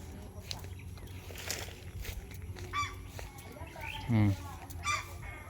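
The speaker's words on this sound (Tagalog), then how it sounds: "May pato, gansa." Geese honk loudly in short blasts amid farmyard fowl chatter on a farm, with duck quacking and rustling nearby and a voice briefly in the background.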